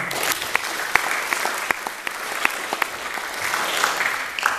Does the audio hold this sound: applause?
yes